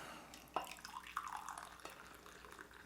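Light-roast Peruvian Lonya Grande coffee being poured into a cup, a soft, steady liquid trickle with a few small splashes, quiet and close, heard alone without talk.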